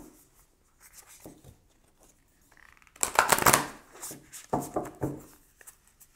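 Tarot cards are handled and drawn during a reading: faint rustles, then a louder burst of riffling and sliding cards midway, followed by a few more short card swishes close by.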